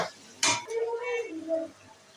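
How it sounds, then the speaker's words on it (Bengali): Pieces of meat tipped into spiced masala in a hot cooking pan give one sharp sizzling splash, followed by a voice talking over the quieter bubbling. "এবার আমি এর মধ্যে মাংসগুলো দিয়ে দেব।"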